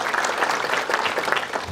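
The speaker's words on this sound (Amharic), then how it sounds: "አጨብጭቡለት።" A congregation claps steadily, a dense, moderately loud patter of many hands with slight rhythmic pulses, close by and without voices on top.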